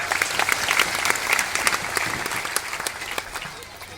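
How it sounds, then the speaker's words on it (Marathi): Audience at a Buddhist Dhamma conference in Ambanagar, Sevagram, clapping together in loud, sustained applause that carries on evenly and fades slightly toward the end. "त्यांच्यासाठी जोरदार टाळ्या होऊ द्या"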